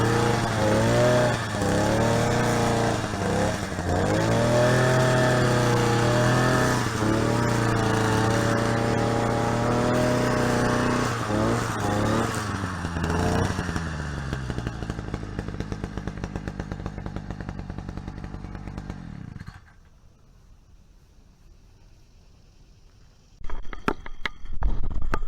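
A lawn mower engine runs loudly nearby with a steady drone and several rising and falling revs, then cuts out abruptly, leaving near silence before a brief burst of clatter near the end.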